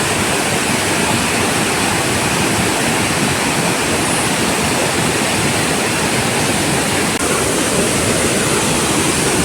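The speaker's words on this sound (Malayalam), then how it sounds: "ഇതാണ് ആ വെള്ളച്ചാട്ടം." Haritheerthakkara waterfall near Sreenaduvil in Kannur roars loud and close, a dense, unbroken rush of falling water with no talking.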